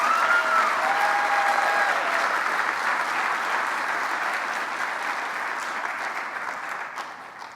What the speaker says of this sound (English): Let's give a round of applause for our amazing jurors.